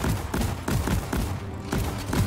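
Single shots from the Lok-1 rifle in the video game Deep Rock Galactic, a run of sharp, punchy reports fired one at a time in an uneven rhythm, fairly loud and close, with no talk over them.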